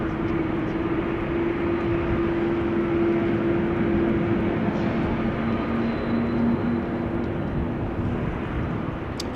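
A KLM Airbus A330 airliner at Schiphol Airport gives off a steady, loud jet rumble with a sustained engine whine, continuous and unbroken, with no voices.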